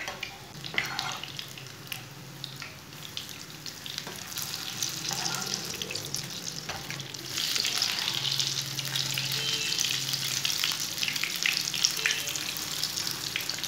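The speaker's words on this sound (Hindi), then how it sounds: "इसे 2 मिनट तक फ्राई होने देंगे।" Tikki made from leftover roti fries in a pan with a steady, close sizzle throughout, growing denser and louder partway through, with faint clinks in the background.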